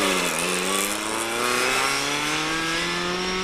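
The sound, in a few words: Vauxhall Chevette car driving at a car show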